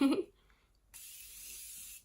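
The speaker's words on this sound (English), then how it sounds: "just the red lip and the silver eye, an extra setting spray" A short burst of makeup setting spray follows a brief breath or rustle: one soft, airy hiss lasting about a second, close to the mic in a quiet room.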